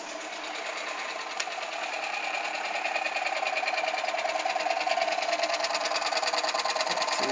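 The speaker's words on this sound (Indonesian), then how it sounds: "kalau kita start dari sini maka motor 3 fase akan berjalan" A three-phase motor driven by sensorless FOC control runs steadily, giving a continuous whirring hum with a fine rhythmic buzz that grows slightly louder after the first couple of seconds and then holds even.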